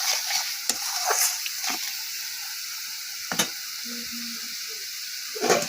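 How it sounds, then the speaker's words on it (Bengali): Spice paste sautés in oil in a pan, a continuous sizzle broken by several sharp scrapes and clinks of a spoon stirring, close up with no one talking. "এখন মশলাটা কষিয়ে নিই"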